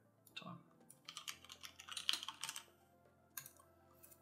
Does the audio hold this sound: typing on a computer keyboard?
yes